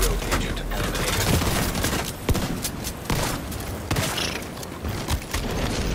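Shotgun blasts in a multiplayer shooter game, dense and noisy, with sharp reports scattered through a constant wash of gunfire and mechanical clatter, under faint voices.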